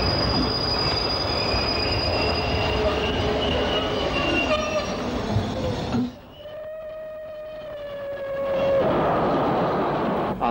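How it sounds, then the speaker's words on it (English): A Bournemouth Express train overtakes a stopping electric train at Berrylands Station, with loud, continuous rumbling and clattering wheels and high squealing tones that drop away sharply, leaving a steady whine before the roar swells again. "A Bournemouth Express overtakes a stopping electric at Berrylands Station"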